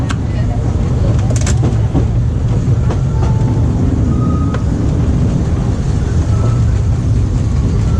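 The Disneyland Railroad train rumbles and clatters steadily close by as it approaches a station, a loud continuous rolling noise with occasional metallic squeaks.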